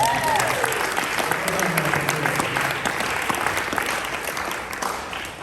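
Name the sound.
applause for Jackie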